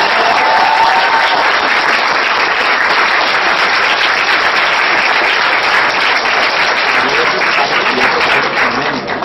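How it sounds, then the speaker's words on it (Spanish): An audience at a business seminar on emotional intelligence gives loud, sustained applause, dense clapping that continues evenly for several seconds before easing slightly at the end. "vamos a dar un aplauso"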